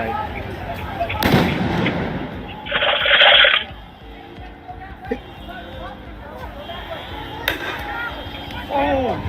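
Sharp rubber-bullet gunshot cracks ring out at a distance amid a tense outdoor crowd at a night riot, with a harsh hissing burst in between and voices talking throughout.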